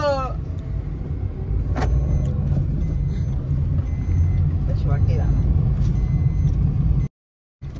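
Steady low rumble of a compact Mahindra Scorpio SUV's engine and road noise from inside the moving vehicle, with a person speaking briefly over it before a sudden cutoff.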